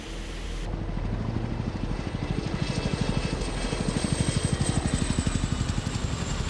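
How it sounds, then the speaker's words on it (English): Military helicopters flying overhead as forward elements move ahead of the main body, a loud steady rotor roar with rapid, rhythmic blade chop that grows stronger and more pronounced as they close in. "helicopters carry forward elements ahead of the main body"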